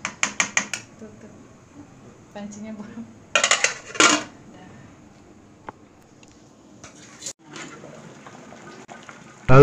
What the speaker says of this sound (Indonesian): Setelah dimasukkan sereh, lengkuas, dan daun salam, terus kita aduk-aduk.